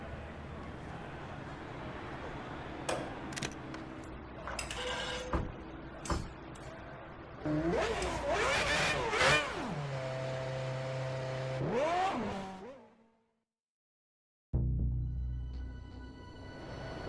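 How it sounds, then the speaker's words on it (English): In a racing video game, a Formula 1 car's engine fires up on the grid at the Bahrain Grand Prix. A few clicks lead into wavering, rising and falling revs, then a sudden cut to silence before the engine hum returns. "Let's fire up the engine."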